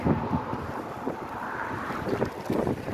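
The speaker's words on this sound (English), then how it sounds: "Extremely windy though." Strong wind on Fort Myers Beach, Florida, buffets the microphone in a constant heavy roar, gusting louder at moments, with faint rustling beneath.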